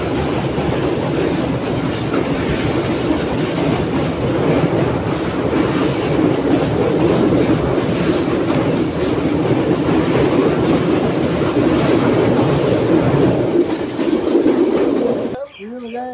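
A passenger train arriving at Bahawalpur railway station in Pakistan rumbles steadily along the rails with a constant roar and faint clattering, loud and sustained, cutting off abruptly at the end.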